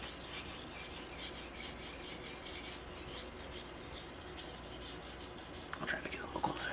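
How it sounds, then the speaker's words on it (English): Knife edge rubbed on a Tanba Aoto, a Japanese natural whetstone, giving a steady near, soft rasping scrape in repeated strokes that continues throughout, with no speech. "first I'll just do a little bit of sharpening so you can just hear it"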